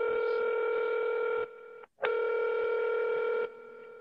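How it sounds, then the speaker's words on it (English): Telephone ringback tone on an outgoing call to a realtor, a steady electronic tone repeating in long bursts with a brief silent gap, heard over the line with no voices. "Answer that phone. Answer that phone."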